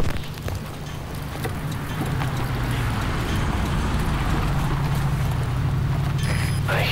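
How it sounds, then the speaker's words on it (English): Distant vehicles rumble as a low, steady engine drone at a military base near a heliport in Metal Gear Solid V: Ground Zeroes, continuous under light ambient noise with no talking. "I hear vehicles."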